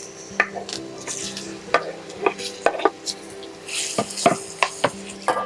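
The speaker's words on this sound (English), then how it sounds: "Once the oil is hot, we're gonna fry the plantains." Plantain pieces fry in hot oil, a steady sizzle beneath sharp clinks and taps of a utensil against the pan as the slices are separated.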